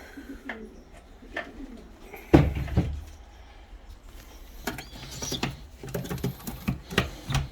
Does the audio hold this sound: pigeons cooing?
yes